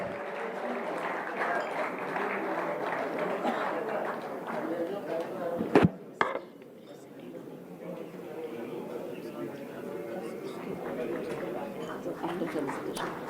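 Audience applause, a dense crowd clapping that swells and fades, with a voice speaking over it and a couple of sharp knocks midway.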